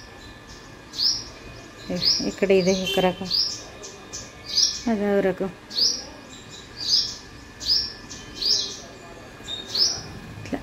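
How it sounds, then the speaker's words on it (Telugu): House sparrows at a home on a Sunday morning give short bright chirps in a quick, irregular run close by, with a person talking over some of the calls. "అటు సైడ్ కూడా ఊర పిచ్చుకలు,"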